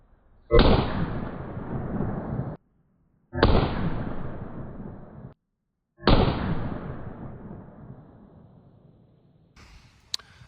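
Three loud, sharp pistol shots from a 4 5/8 inch barrel firing 158 grain loads with Magnum primers, evenly spaced, each ringing out and decaying over about two seconds, with a faint click at the end.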